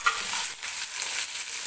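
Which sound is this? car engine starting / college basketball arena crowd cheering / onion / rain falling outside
onion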